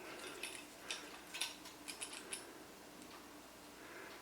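A GhostStop IR light mount being tightened by hand, a short run of small ratcheting clicks and creaks, close and quiet, then a faint hiss with no voices.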